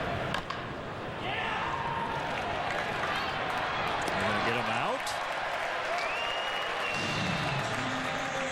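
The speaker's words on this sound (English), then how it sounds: "I think you could hear a little extra ripple for the modest crowd here that they finally got Bonifacio out." Modest crowd at a Cubs at Pirates baseball game gives a broad, steady wash of applause and cheering that swells after an out, heard at a distance with murmur and a few rising tones through it.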